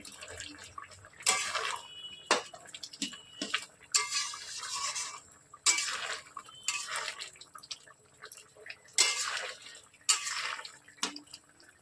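Chana masala spices being stirred and mixed in a pan, with repeated scraping and clinking spoon strokes in short bursts and quiet gaps between them.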